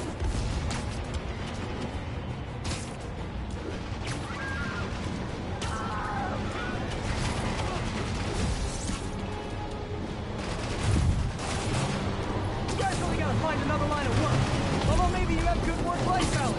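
Gunfire and crashing impacts in the Marvel Spider-Man video game, a steady busy barrage of shots and booms at moderate loudness, with one heavier burst partway through, mixed under character voices.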